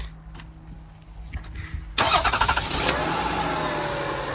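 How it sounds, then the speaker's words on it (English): A Toyota Sienna engine cranks and catches, idling loudly for a couple of seconds after a quiet garage lead-in with faint clicks, the start marked by a sudden burst and brief chugging. "Can you start the car real quick?"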